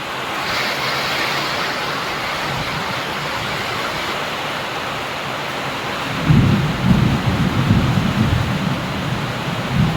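A thunderstorm brings a steady downpour of heavy rain, then a deep rolling peal of thunder rises in the second half and rumbles on beneath the hiss of the rain; no voices.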